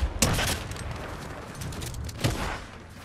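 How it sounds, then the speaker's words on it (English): Fortnite gunfire: two sharp, fairly faint shots about two seconds apart, each trailing into a rumbling echo over quiet game ambience. "What are you shooting at?"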